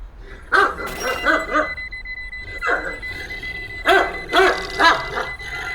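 A dog barks in a binaural recording, played back through a small speaker: short bursts of several sharp barks, a pause, a single bark, then another quick cluster, fairly close and clear.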